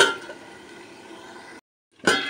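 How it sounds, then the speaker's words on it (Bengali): A lid clinks down onto a pot of mutton curry on the stove, a single sharp metallic clatter at the end after a stretch of steady frying sizzle and a brief silence. "আমি এটাকে সিদ্ধ করার জন্য এখন ঢাকনা দিয়ে দেবো।"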